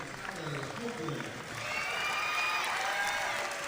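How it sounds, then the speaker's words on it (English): Basketball championship crowd cheering and applauding as a player receives his medal, a broad rising roar with whistles and shouts that swells louder in the second half, voices talking over the start. "listen to the crowd noise when this next guy gets his medal"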